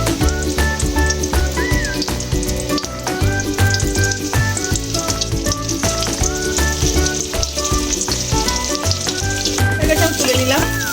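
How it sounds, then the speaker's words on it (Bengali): Popcorn chicken satay pieces fry in hot oil with a loud, continuous sizzle and crackle, while melodic background music plays throughout. "বাকি স্যাডেগুলো আমি ভেজে নিচ্ছি।"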